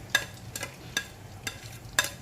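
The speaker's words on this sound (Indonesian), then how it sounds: "Nah, ini kita masukkan cabainya terlebih dahulu ya. Kita goreng dulu." Chili peppers fry in a generous amount of oil while being stirred, producing a faint sizzle under regular scraping strokes of a utensil, about five distinct stirs in quick succession.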